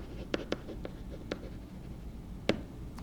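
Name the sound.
writing on paper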